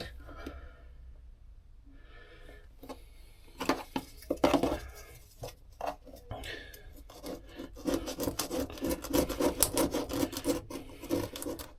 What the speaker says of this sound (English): This took quite a bit of effort to get all the silicone out.